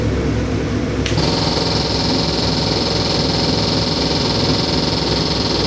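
A 625 HP 7.3-litre Godzilla crate engine runs steadily at held revs, a loud continuous rumble with a constant high whine joining partway through.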